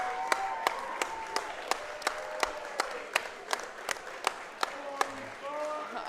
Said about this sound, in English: huge round of applause for Jokr coming in here